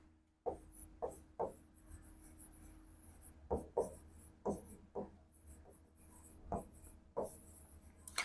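Chalk or marker strokes on a classroom board during a class 10 physics lesson on light reflection and refraction, coming in short rhythmic bursts of scratchy writing separated by brief pauses, close and fairly clear.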